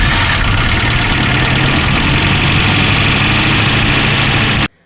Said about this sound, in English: you heard a god-awful rattle noise, or you've heard some kind of really struggling clunking noise